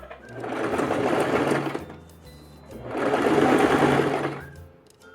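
A sewing machine stitches fabric for a zipper crop top in two close, loud bursts of rapid whirring, with a short pause between them and quiet mechanical clicks around them.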